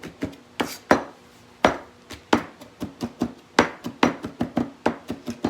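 A knife chops fresh celery leaves on a board: a close, crisp run of about twenty quick, uneven strikes, speeding up toward the end, with no talking.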